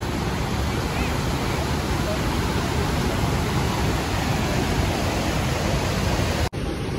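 Fast-flowing water rushing below a bridge near a waterfall during rainy weather, a loud, dense, unbroken roar filling the whole clip until an abrupt cut near the end.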